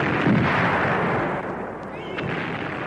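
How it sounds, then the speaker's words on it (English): Explosion of an ammunition store as an audiobook sound effect: a loud, sustained roaring blast with dense low rumble that continues without letup, dipping slightly partway through. "He finds the ammunition store and creates a diversion by blowing it up."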